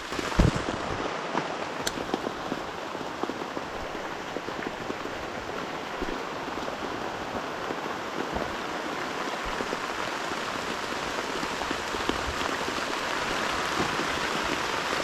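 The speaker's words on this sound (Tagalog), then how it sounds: "Ayan, nalakas po ang ulan." Heavy rain pours steadily and close, a dense continuous hiss with scattered louder drops spattering on nearby surfaces.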